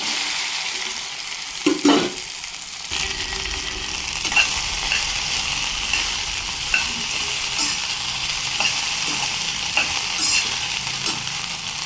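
Okra (lady's finger) fries in about a tablespoon of oil in a pan, a steady close sizzle with repeated scraping clicks of a spatula stirring through it and no talking.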